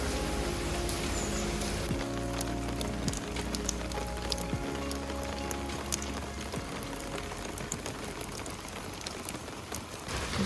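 Light rain falls outdoors as a faint, steady patter of drops, with a low hum running underneath throughout.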